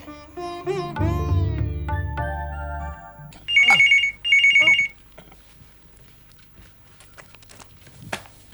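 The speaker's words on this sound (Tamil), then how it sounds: "ஃபோன் அடிச்சிட்டு இருக்கல" A telephone rings in two short bursts after some musical tones and background movement, followed by quiet shuffling, in a Tamil TV serial.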